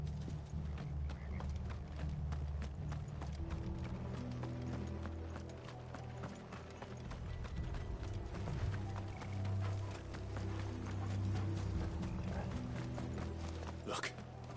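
Horses' hooves clatter in a steady, rapid clip-clop in the video game Final Fantasy XVI, with a low rumble and background music running underneath throughout.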